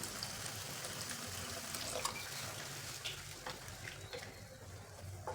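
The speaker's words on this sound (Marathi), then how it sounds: "हे गरम करून घेतलेलं पाणी." Heated water poured into chhole curry in a home kitchen, a soft continuous trickle and splash with small gurgles that stays fairly quiet and steady for about five seconds, with no talk over it.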